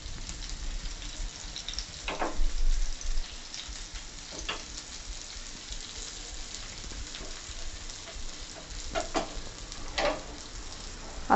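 Bombay duck (bombil, mandeli) fish fry in oil on a tava over medium flame, a faint continuous sizzle broken by a few sharper crackles and spits.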